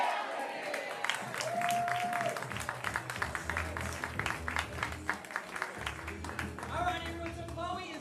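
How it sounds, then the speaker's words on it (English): Audience breaking into applause and cheering after a group shout, brisk continuous clapping mixed with voices and talk, fairly close and sustained throughout. "we're going to yell, "Get out of here!" with a huge round of applause"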